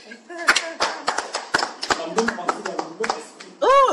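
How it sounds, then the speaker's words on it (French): A church congregation breaks into sparse, uneven clapping: a handful of distinct, close hand claps with voices talking in between, ending in a brief rising vocal sound. "Applaudissons pour lui d'abord"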